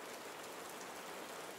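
Steady rain pours outside a stone archway, a soft even hiss of dense falling drops with no pauses, quiet and enveloping.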